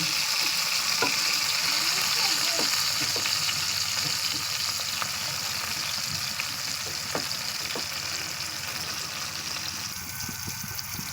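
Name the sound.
frying pointed gourd (potol) slices in a pan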